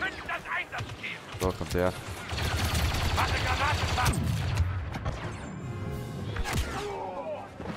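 Dense, rapid gunfire and blaster-like bursts crackle through a Star Wars Battlefront II match on Naboo, with overlapping shots and impacts over game effects while someone speaks German briefly.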